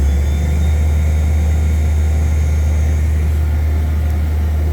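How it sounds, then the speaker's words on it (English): A Mazak Integrex i-150 CNC lathe from 2016 with its spindle spinning at 4,600 RPM gives a steady, loud low hum with constant machine whir and faint high tones throughout. "there's the lathe spindle"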